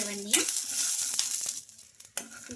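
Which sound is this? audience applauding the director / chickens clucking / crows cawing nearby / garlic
garlic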